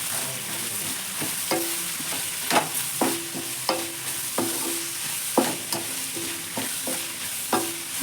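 Egg fried rice with carrot, chilli powder and sauces is stirred in a hot pan, a spatula scraping and clacking against the metal in irregular strokes over a steady background sizzle.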